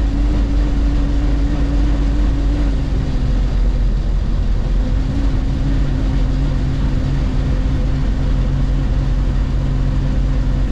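Steady interior drone of a Wartburg 311 driving on a road at a little over 50 km/h, a loud continuous engine hum with a low tonal note shifting slightly, recorded onboard.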